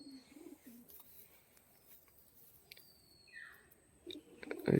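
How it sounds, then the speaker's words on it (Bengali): A single male Dhari pigeon gives a low, soft coo at the start, then another brief coo near the end over a quiet, faintly noisy background. "এটা একটা সিঙ্গেল নর পায়রা"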